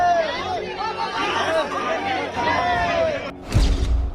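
A dense crowd of devotees packs Patna airport to welcome Bageshwar Dham's Dhirendra Shastri, with a close, continuous babble of overlapping voices and raised calls, and a sharp thump near the end.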